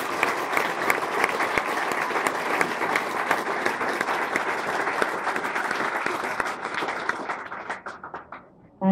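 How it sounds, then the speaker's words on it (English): An audience at a Glen Innes Citizen of the Year awards ceremony applauds the fire brigades with loud, dense, sustained clapping that thins out and fades in the final seconds. "them the applause they deserve"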